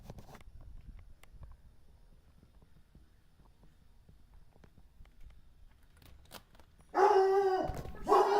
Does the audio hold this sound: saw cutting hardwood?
no